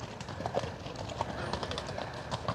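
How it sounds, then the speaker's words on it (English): Horses walk along a trail at Lake Louise in Banff National Park, their hooves clip-clopping in a loose, uneven rhythm at moderate distance, with faint voices and outdoor ambience around them. "horses"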